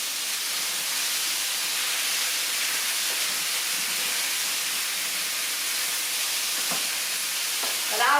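Food frying in olive oil in a pan, a dense, even sizzling hiss that holds steady and close throughout, with a few faint clinks near the end and no voices.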